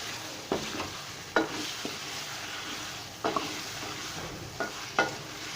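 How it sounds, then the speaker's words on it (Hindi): Chicken with tomatoes, coriander powder and spices fries in hot ghee for a kaddu gosht curry, giving a steady close sizzle broken by repeated scraping stirs of a spoon against the pan, with no voices. "अच्छी तरह इसको फ्राई करता हूँ"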